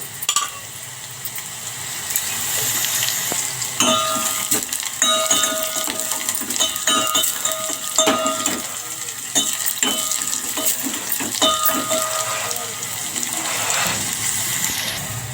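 Cumin and mustard seeds sizzle and crackle in hot oil in a home kitchen, a steady fry with sharp popping and clinking bursts throughout, close and fairly loud, no talking.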